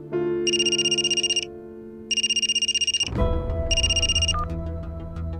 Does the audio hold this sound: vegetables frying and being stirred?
no